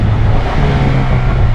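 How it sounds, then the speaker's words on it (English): Exhaust of a manual Honda CR-V accelerating, a brief loud, deep droning rumble that holds steady, close up and without voices. "Look, hear the exhaust."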